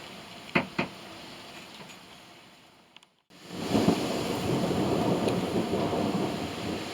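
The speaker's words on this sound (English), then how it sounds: "The wind is whipping pretty good." Strong wind gusts through an outdoor forge area during a thunderstorm, a low rushing roar that drops briefly before surging back loud and steady, with a couple of distant thumps near the start.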